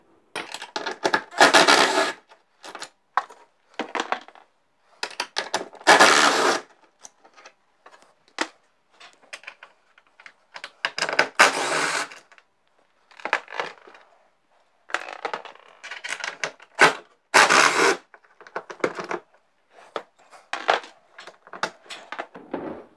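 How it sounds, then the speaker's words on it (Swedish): Bolts on the backrest of a Club Car golf cart are worked loose with a tool, giving a series of close, sharp bursts of clicking and ratcheting that come in short irregular clusters with brief pauses between. "Då slipper vi väl på de bultarna som håller ryggstödet."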